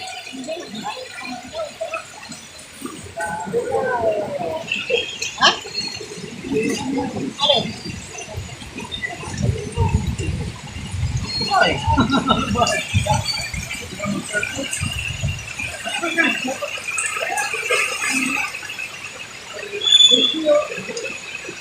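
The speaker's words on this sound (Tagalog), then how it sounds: "grabe, ang lakas ng tubig" Strong floodwater rushing through flooded streets between Bocaue and Marilao makes a steady, loud broadband roar that runs the whole time, with people talking over it.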